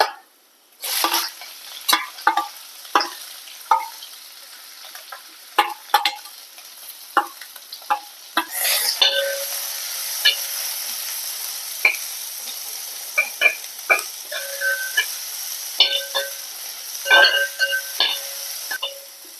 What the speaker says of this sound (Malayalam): നമുക്ക് സവോള ഇട്ട് കൊടുക്കുക.